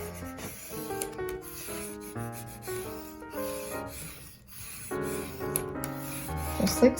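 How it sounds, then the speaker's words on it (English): Paper is burnished down by hand while assembling a Simple Stories Hello Winter folio, soft repeated rubbing strokes under tuneful background music. "So burnish that down nicely."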